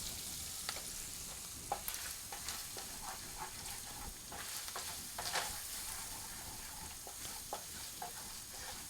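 Ground turkey and other ingredients frying in a pan are stirred at a steady pace, with a continuous sizzle under irregular utensil scrapes and clicks against the pan, close and fairly quiet.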